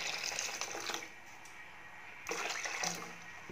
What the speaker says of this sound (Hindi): अब इसमें हम पानी 1/2 लीटर और डाल देते हैं,